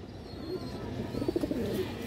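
Pigeons in a loft, including a restless female of a flying breed, give soft low coos that rise in a short cluster near the end over steady background murmur.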